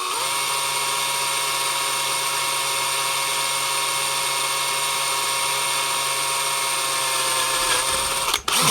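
A hand-held power drill boring a 3mm hole, with a steady high whine running without a break for about eight seconds, then a brief dip and stop at the end, close and fairly loud.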